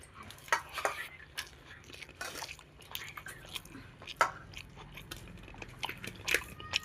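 Someone eats a simple home-cooked rice meal with onion, with soft wet chewing and bites close by, plus occasional light clinks of a plate, quiet and intimate.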